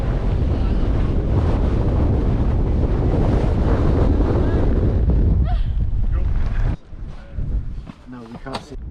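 Strong gusty wind buffets the microphone on a mountain summit in the Yorkshire Dales during a wet trail run of the Three Peaks, a loud continuous roar that drops away sharply near the end as voices speak.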